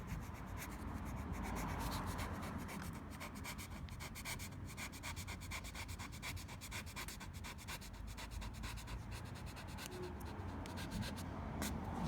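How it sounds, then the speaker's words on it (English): A squeegee presses a vinyl decal onto a Holden Commodore VX, making faint, close, continuous scratchy rubbing strokes with no talking. "now again same movement, push it with a squeegee"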